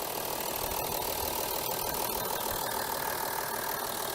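A 2007 Audi A6 Avant's 2.7 turbocharged V6 diesel idles smoothly, a steady, even drone heard close up and alone, with no voices.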